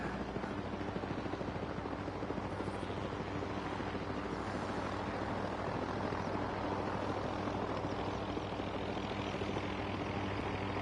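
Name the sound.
helicopter hovering above the base in video game Expeditions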